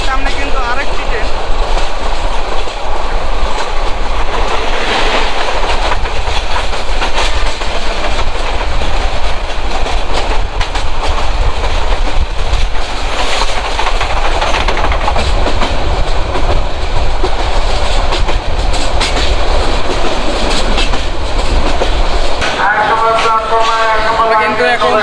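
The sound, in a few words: train running fast on tracks, Mohanganj Express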